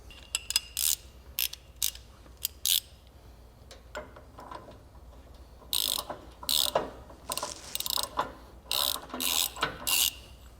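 Hand tools compressing the suspension on a 2003–2009 Hummer H2 during lift kit installation: rapid bursts of ratchet clicking, close and loud, in short repeated runs separated by brief pauses, with no talking.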